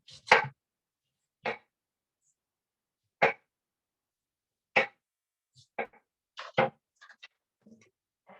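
A knife shaves down crispy fried walleye for tacos, giving sharp, scattered scraping and crunching strokes at uneven intervals, close and dry against quiet gaps.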